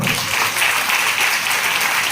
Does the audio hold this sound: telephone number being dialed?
no